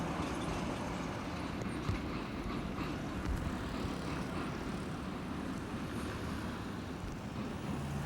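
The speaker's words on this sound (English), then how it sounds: "That's their local S-Bahn coming up." A local S-Bahn commuter train in Szczecin, Poland, in 1991 passes as a steady, loud low rumble that holds for the whole stretch, with no talk over it.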